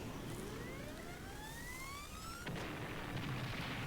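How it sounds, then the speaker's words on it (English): An explosion in the 1995 video game Brain Dead 13 opens with rising whistling tones like something falling, then a sudden blast that leaves a dense, noisy rumble, all loud and close. "We have the explosion."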